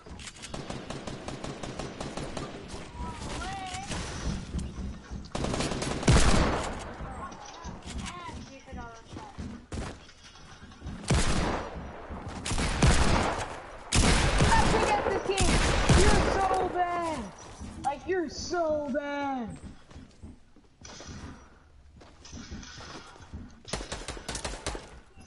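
Rapid hand cannon shots ring out in a multiplayer shooter game, with bursts of sharp, loud gunfire clustered in several volleys while players talk and react over the action.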